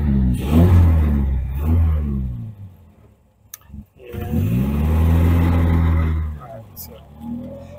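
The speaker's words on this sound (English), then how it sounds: "I love the sound of the exhaust" A 1954 Morgan Plus 4 cabriolet with a 90 horsepower Triumph TR2 engine revs through its exhaust in two long, loud, deep bursts separated by a brief lull.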